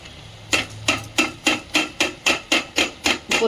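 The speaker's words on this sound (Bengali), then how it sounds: "প্রত্যেকটা চাল আমি একটু ঠুকে ঠুকে ঢেলে নিলাম।" Rice is tipped in small handfuls into a pot of cooked chicken for biryani, giving ten evenly spaced, sharp tapping thuds that follow one another steadily and close by.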